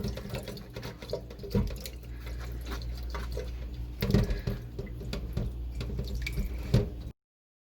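Vegetables are rubbed clean under a running kitchen tap, a steady hiss of flowing water with small splashes and soft scrubbing knocks throughout, and one brief louder clatter near the end.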